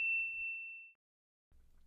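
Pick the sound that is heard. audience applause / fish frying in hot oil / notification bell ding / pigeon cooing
notification bell ding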